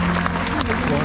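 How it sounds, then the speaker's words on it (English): Zoo show audience clapping for an animal presentation at an Australian zoo, a short burst of applause heard under a loud, close announcer's voice and crowd murmur. "So let's give him a huge round of applause."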